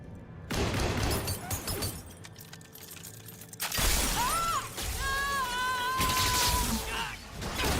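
Glass shattering during combat in Mass Effect 3, a loud crash and breaking burst followed by game effects and whining tonal sounds.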